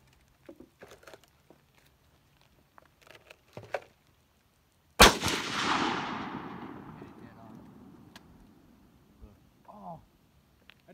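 A single sharp gunshot at outdoor target practice cracks loudly near the middle and trails off in a long ringing decay, with scattered clicks and handling noises before it and faint talk afterward.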